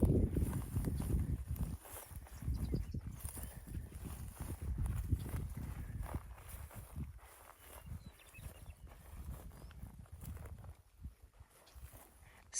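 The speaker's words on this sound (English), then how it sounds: "Scaring the cows." Cows running off across open ground near an old gold mine ghost town, their hooves thudding in loose, irregular clumps that fade as wind and outdoor noise continue.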